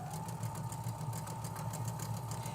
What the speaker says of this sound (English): we're just doing some straight stitch sewing